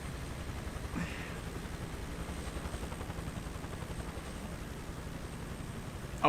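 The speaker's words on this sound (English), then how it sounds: "Just getting an escort by the military. We got a Huey, a Chinook, and an F-18." Faint, steady rotor and engine noise from a military helicopter escort in Microsoft Flight Simulator 2024 continues as a low, even hum throughout.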